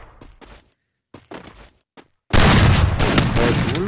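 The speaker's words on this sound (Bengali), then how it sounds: "শটগান দিয়ে দেখা যাক" Shotgun blasts in a first-person shooter game, a few soft thuds and clicks in near silence, then a sudden loud burst of gunfire that stays dense and sustained to the end.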